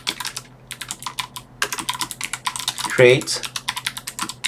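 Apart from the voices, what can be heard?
typing a command on a computer keyboard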